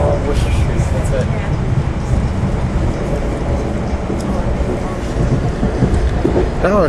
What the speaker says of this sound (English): Now our train will be entering the Hudson River tunnels as we get ready, as we leave New Jersey and enter New York City.